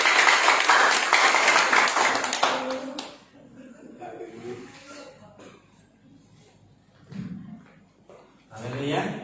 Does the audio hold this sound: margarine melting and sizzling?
no